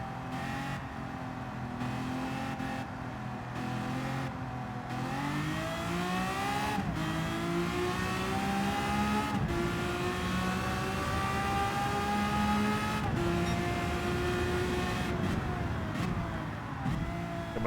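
A race car engine in Gran Turismo 7 revs and climbs steadily through the gears, loud and continuous with rising pitch and brief dips at shifts, with no talk over it.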